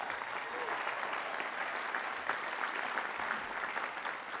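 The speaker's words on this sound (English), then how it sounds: "I think they deserve applause." A large commencement crowd applauds a field hockey team, a steady, dense roar of clapping heard from a distance, even and sustained for several seconds with faint crowd noise mixed in.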